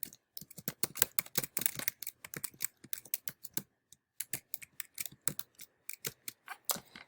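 Quick, uneven clicks of typing on a computer keyboard while facts are entered into a virtual diorama, sharp keystrokes in bursts with short pauses, close and fairly quiet.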